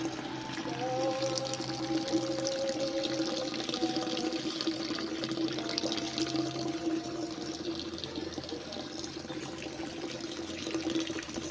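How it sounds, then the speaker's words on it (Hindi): Fresh water flows steadily from a natural spring beside a hotel in the Konsh valley, a continuous close gurgling rush with no pauses. "होटल के साथ ही ये साफ़ पानी का चश्मा बना हुआ है बहुत ज़बरदस्त ताज़ा पानी फ्रेश पानी बिल्कुल साफ़ सुथरा"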